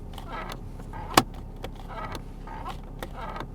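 A worn ashtray cover in a BMW X3 E83 3.0d creaks and squeaks in short repeated strokes close up, with one sharper click partway through, quiet cabin around it.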